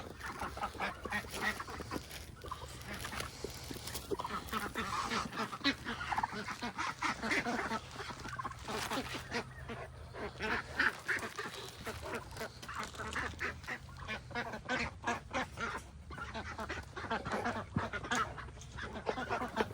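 Several ducks being fed grapes quack and honk repeatedly at close range, a busy, overlapping chorus that carries on throughout, with an occasional voice in the background.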